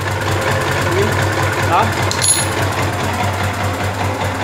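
Honda Falcon motorcycle engine idling steadily during an oil change, a close, even low throb with mechanical chatter, while someone speaks briefly over it.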